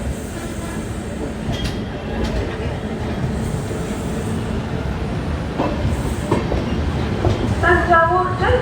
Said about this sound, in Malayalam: നമ്മൾ കണ്ട് തഞ്ചാവൂർ സ്റ്റേഷനിലേക്ക് കയറിക്കൊണ്ടിരിക്കുക കേട്ടോ.